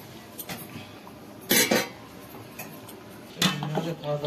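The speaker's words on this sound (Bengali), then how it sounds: "তো হাঁড়িটা আমি এখন নামিয়ে নিলাম" A pot of boiled rice is lifted off the stove in a home kitchen, giving two sharp metallic clanks a couple of seconds apart against quiet background noise.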